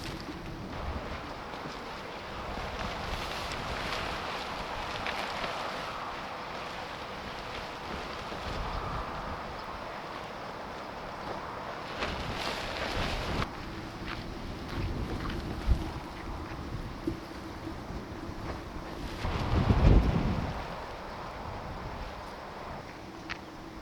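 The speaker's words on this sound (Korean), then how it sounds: "바람." Steady wind buffeting the microphone at a summer seaside campsite on the East Sea coast at Goseong, a continuous broadband rush with gusts swelling and a stronger blast near the end.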